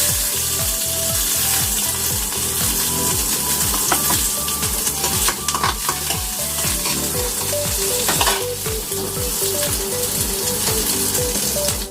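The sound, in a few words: onion frying and sizzling in a pan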